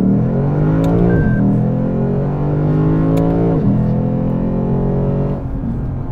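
A Lexus RC F engine drones loudly and steadily from inside the car, its pitch sweeping down twice as the transmission shifts gears and then climbing again, with no voices over it.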